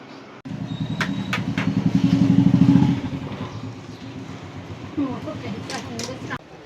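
A motorbike engine idles close by with a rhythmic rumble that rises and then eases off into a lower drone, with some clatter and a voice speaking over it.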